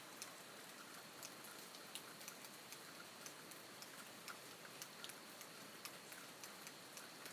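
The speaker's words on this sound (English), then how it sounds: "when it's raining like this" Steady rain falls on a surface, a continuous hiss broken by scattered sharp drop ticks that land fairly evenly throughout, with no voices.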